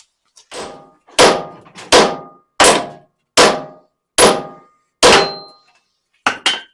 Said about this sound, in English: Hammer for the win.